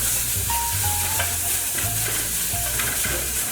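A spoon stirring spices and tomato paste in a pot over heat, with loud continuous sizzling and repeated scraping strokes against the pot, no voices.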